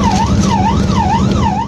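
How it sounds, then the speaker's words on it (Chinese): An ambulance siren wails on a highway, loud and close, its pitch sweeping up and down in a fast repeating cycle, with road and traffic noise underneath. "救护车接获紧急任务，国道上一路鸣笛前进"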